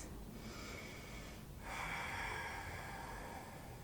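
Steady breathing while holding a yoga squat pose on a mat in a vinyasa session, with a soft inhale and then a fuller, louder exhale or snort-like breath at mid-clip, close and alone with no talk.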